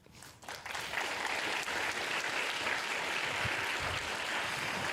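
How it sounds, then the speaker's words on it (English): Audience applause at the STEM Racing national finals and awards ceremony, a dense, sustained roar of clapping that swells quickly in the first second and then holds loud and even. "I want you all to give yourselves a round of applause"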